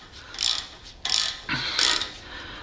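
A ratchet working a brake caliper bolt loose on a Toyota Tacoma front brake: a few bursts of rapid, close metallic clicking from the pawl, with short pauses between strokes and no talk.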